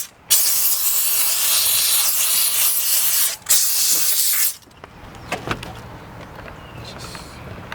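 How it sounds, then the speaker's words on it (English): A steam cleaner jets over car interior buttons and the door panel, giving two long, loud, close hissing bursts with a brief break between them, followed by softer handling noises. "I use the steam machine."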